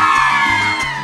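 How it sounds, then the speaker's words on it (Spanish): A crowd of girls shouts and cheers at a live concert, a dense continuous roar of high voices that stays loud and close for about a second, with no distinct talk over it. "¡Un grito de las chicas!"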